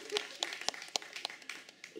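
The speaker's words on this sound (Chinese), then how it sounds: "好，掌声鼓励。" Audience applause at a small music performance event, a short burst of sparse, separate claps standing out over low background talk.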